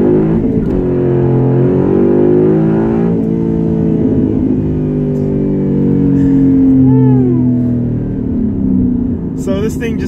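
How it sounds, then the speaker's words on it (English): A 2014 Sherrod Mustang GT under hard acceleration, its loud exhaust note climbing in pitch through successive gears, heard from inside the car. "the exhaust on this thing sounds so incredible"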